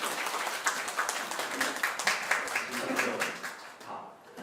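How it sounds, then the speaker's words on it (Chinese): A crowd applauds with steady, dense clapping that fades out toward the end, with some talking mixed in. "请大家掌声再一次欢迎邓医师"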